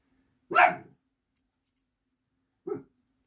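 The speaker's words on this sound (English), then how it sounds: "Sorry about my dog." A dog gives two short, sharp barks in a quiet indoor room, the first louder and the second about two seconds later.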